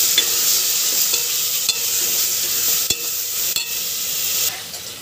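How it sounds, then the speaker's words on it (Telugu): Ginger garlic paste fries with tomatoes in a hot pan, giving a steady close sizzle and hiss. A few sharp scrapes and clicks from stirring cut through it, and the sizzle fades slightly near the end. "అల్లం వెల్లుల్లి పేస్ట్ పచ్చి వాసన పోయే వరకు బాగా ఫ్రై చేసుకోండి"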